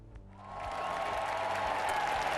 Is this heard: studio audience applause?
yes